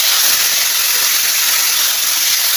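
Taro leaves sizzle loudly and steadily in a hot pan, a dense, continuous hiss that stays close and even throughout, with no talk heard.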